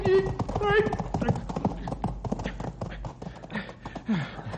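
Hooves of a horse clip-clop in quick, uneven beats in a radio drama, close and busy, while people talk and shout over them.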